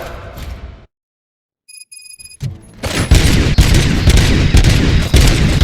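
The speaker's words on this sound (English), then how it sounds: "Gunshots? What's going on?" Bursts of rapid gunfire crackle loudly in the video game RoboCop: Rogue City after a brief silence and some chiming tones, rising into continuous heavy shooting and booms.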